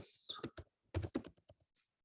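Quick keystrokes on a computer keyboard, a short irregular burst of clicky taps close up, fading into a few lighter presses.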